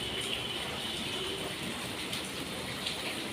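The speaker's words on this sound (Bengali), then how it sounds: "দেখো বন্ধুরা কীরকম মুষলধারে বৃষ্টি হচ্ছে দেখো" Heavy rain pours down in a dense, steady wash that covers the whole moment, with water collecting and running all around and no voices.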